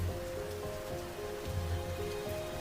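Steady rain falls under dark clouds, a soft continuous hiss of drops on surfaces at a fairly quiet level, with a faint tonal hum running underneath.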